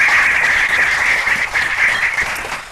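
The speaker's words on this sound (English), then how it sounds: "Let's give him a round of applause." An audience at a producers' panel event applauds, a dense, steady wash of clapping from a full room that holds loudly throughout before tapering slightly.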